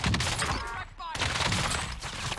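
Rapid assault rifle fire from the Call of Duty Warzone video game rattles out in dense bursts, with a brief pause near the middle before the shooting resumes, and speech mixes in.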